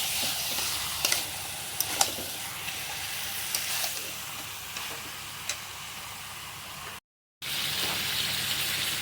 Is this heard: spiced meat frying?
yes